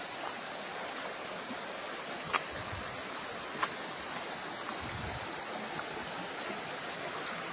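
Steady rushing flow of a river fronting a farm lot in Real, Quezon, continuous and moderately close, broken by a couple of faint knocks and low rumbles of wind or handling, with no voices.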